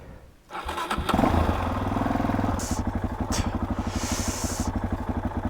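A motorcycle engine fires up after a brief crank, then settles into a steady, rhythmic idle with a regular putting pulse, close and fairly loud, with a couple of faint hissy bursts over it.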